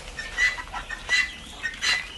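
Dutch Blue chickens crossed with local hens cluck and call in a few short bursts, moderately close, on a poultry farm with a steady background hiss and no talking.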